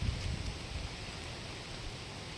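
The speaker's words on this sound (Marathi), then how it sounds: "सरीवरती सरी येत आहेत" Heavy rain falls on open farm fields in fog, a steady dense hiss with no break, at a moderate level.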